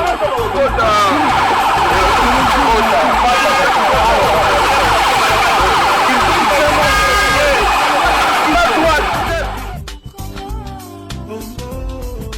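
A police vehicle siren wails loud and close, its rising and falling tone running steadily for about ten seconds before it cuts off, with a crowd and voices noisy beneath it.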